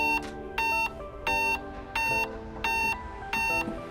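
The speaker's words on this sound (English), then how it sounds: "apply power for a series of 6 beeps" A Kawneer Paneline exit device with a motorized latch retraction kit gives six evenly spaced electronic beeps during programming. The beeps are loud and steady, with brief pauses between them and no voices.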